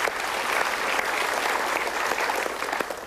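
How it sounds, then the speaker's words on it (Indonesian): Audience applause at a live motivational talk show, a loud, dense and steady wash of clapping from a large crowd that continues without pause. "Kita berikan tepuk tangan."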